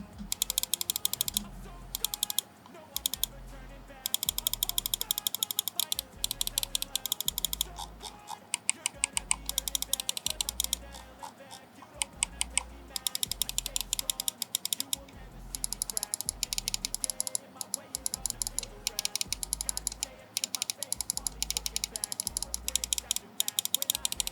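Rapid, crisp button clicks from a Ninjutso Sora gaming mouse repeat in quick bursts with brief pauses, close and dry with no speech.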